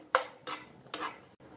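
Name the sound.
nuts roasting in ghee in a pan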